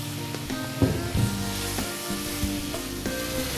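Boiled, mashed potatoes drop into a pan of hot tomato mixture with sugar and salt, setting off a steady close sizzle broken by a few soft thumps and scraping stirs.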